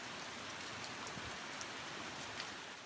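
Steady rain falls on drought-stricken farmland in New South Wales, a continuous broadband hiss with scattered close droplet taps, unbroken and even throughout with no voices.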